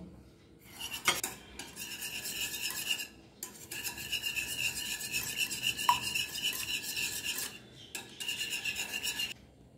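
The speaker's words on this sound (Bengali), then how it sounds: "একটু গোলমরিচের গুঁড়ো দিয়ে ভালোভাবে ফেটিয়ে নেব।" Eggs with a little salt and ground black pepper being beaten for a fish-fry coating: a steady, rasping scrape of utensil against bowl that runs almost continuously, with a few brief pauses, close and fairly quiet.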